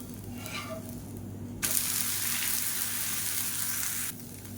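A diet dosa fries in oil on a hot pan, a soft background sizzle that jumps into a louder, steady hiss for a couple of seconds before dropping back down.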